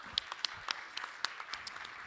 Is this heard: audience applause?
yes